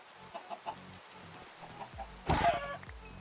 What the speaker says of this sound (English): Spawn chickens.